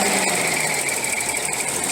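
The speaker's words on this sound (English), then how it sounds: "as you see, the engine's running fine." A Datsun 280ZX engine idling steadily with a fan running, a continuous close-up hum and whir with constant loudness and no voices.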